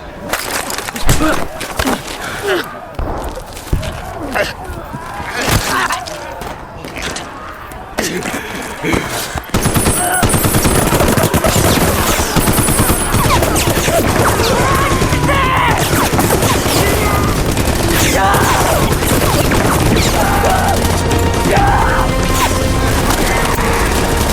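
Heavy gunfire and explosions from a Korean War film battle scene, with dense bursts, booms and crashes growing into a loud, continuous barrage mixed with score and shouting voices.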